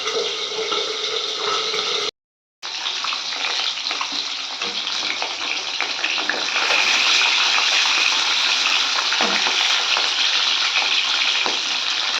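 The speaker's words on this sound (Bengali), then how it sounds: "ডিমের ঝোল বানাবো তো ডিমগুলোকে একটু ভেজে নিচ্ছি" Eggs fry in oil in a large wok, giving a continuous bright sizzle and crackle with a brief cut to silence early on, the frying growing slightly louder toward the end.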